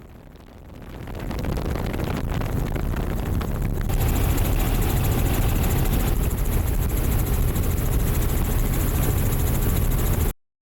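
Loud, continuous whirring roar of a helicopter in flight with its doors removed, heard from inside the cabin, with rushing wind; it builds over the first few seconds, then holds steady until it cuts off abruptly.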